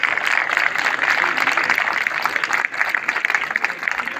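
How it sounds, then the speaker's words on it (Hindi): A crowd at a bird day event in Tal Chhapar, the deer town, gives dense, sustained applause at an even, moderately loud level throughout. "तालियों की कमी मत रखिए।"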